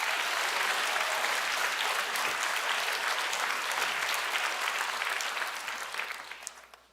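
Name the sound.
congregation applause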